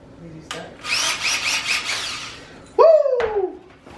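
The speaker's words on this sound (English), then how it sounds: "I'm gonna whip out the drill for this shit." A handheld power drill whirs in a couple of short bursts, its motor revving up and winding down, close by, with people talking around it.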